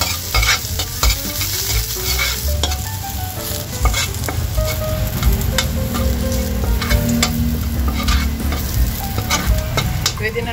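Garlic sizzles steadily in hot cooking oil as it is stirred in a pan for a stir-fried banana heart and squash dish, with a dense continuous crackle and scraping of the spoon running throughout, close and fairly loud.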